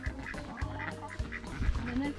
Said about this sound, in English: And a Welsh harlequin's a rare breed duck.